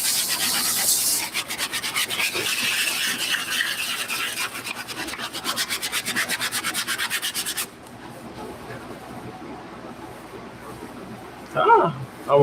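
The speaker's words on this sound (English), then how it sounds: "All right, so we're still scrubbing these down. The stiff bristle brush." A stiff bristle brush scrubs suede shoes in quick, rhythmic rasping strokes, steady for several seconds before stopping, followed by quieter handling and a brief knock.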